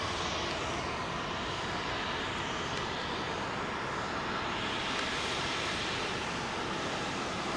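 An Airbus A350 at London Heathrow on runway 27L produces a broad, steady roar of jet engine noise that holds at an even, fairly distant level throughout, with no distinct peaks.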